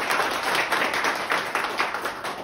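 A room of trainees at a mobile repair training institute applauding their teacher, dense steady clapping filling the whole stretch at close range, with no talking over it.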